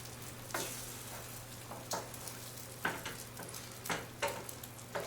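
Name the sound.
fluffy omelette egg mixture cooking in a pan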